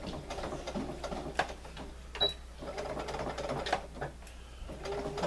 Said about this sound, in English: I'm turning it on the wrong side so I can just sew a straight stitch down